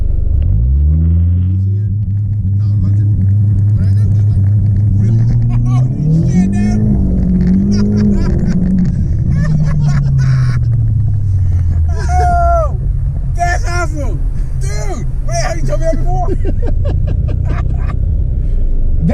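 A big-turbo Ford EcoBoost car using a transbrake: a loud rumbling hold that builds into a full-throttle launch, engine pitch climbing then falling away, with people talking excitedly over the roar.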